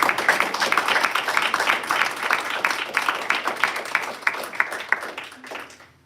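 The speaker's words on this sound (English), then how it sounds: "We give a round of applause for Steve" Audience applause at a Shakopee Public Schools board meeting, a steady wash of many hands clapping for several seconds before thinning out toward the end.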